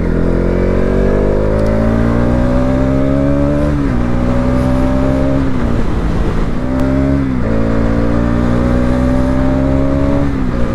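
A motorcycle engine revving hard on the move, with pitch climbing through each gear then dropping sharply at the shifts in a repeating cycle, loud and close.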